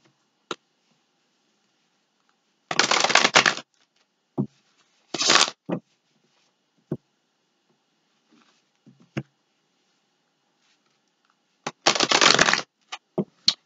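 Tarot cards being shuffled by hand in three short riffling bursts, close and crisp, separated by quiet pauses with a few light taps and card flicks.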